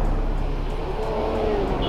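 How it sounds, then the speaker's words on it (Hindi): A KTM RC 390 motorcycle on a Sunday ride revs past nearby, a loud engine drone with a rising whine over steady road noise. "ओ यार गाड़ी आ रही है"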